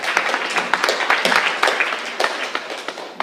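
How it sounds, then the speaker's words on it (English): Audience at an evening elder care community gathering in Brookline applauds, a scattered patter of hand claps filling the room steadily for a few seconds with no voices over it. "So give yourself a round of applause."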